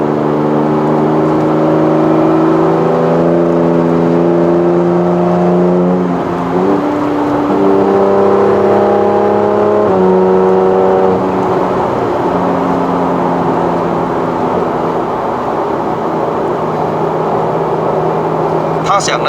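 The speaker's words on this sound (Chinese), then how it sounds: "它是 Boxer engine 啊，所以它是那种水平制引擎" Inside a 2015 Porsche 911 GT3 RS with a roll cage, its track-tuned flat-six boxer engine revs steadily through the gears on a test drive in Malaysia. The whine rises and falls between upshifts, loud and continuous, with people talking over it.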